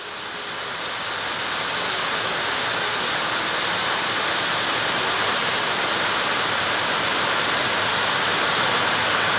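Running water pours in a dense, steady rush that swells at the start and then holds at a constant loud level for several seconds, with no voices over it.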